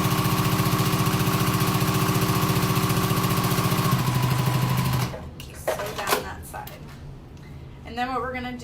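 A sewing machine stitching a tote bag seam, a steady rapid mechanical whir running continuously for about five seconds before stopping, followed by handling noises and a voice speaking.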